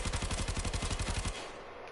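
The Tenora gun in the video game Warframe fires a rapid, evenly spaced burst of loud shots for over a second, then cuts off into a fading tail.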